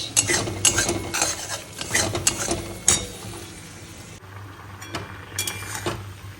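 A spoon stirs curry made with mustard paste and yogurt in a pan, with steady scraping strokes and clinks of utensil against metal over a light sizzle, close and moderately loud with no talking.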